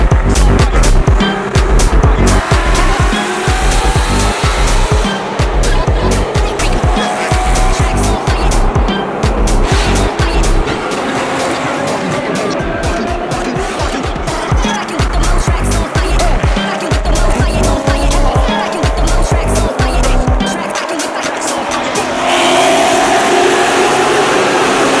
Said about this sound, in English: M3s just go through the tunnel and blast